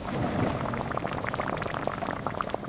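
A pot of ash gourd buttermilk kootu with coconut bubbles steadily at close range, a dense, continuous burble of popping bubbles with no talk.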